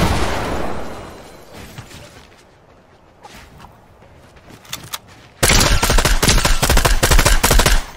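Fortnite gunfire: scattered single shots and short bursts at first, then from about 5.5 seconds a loud, sustained rapid stream of automatic fire close by.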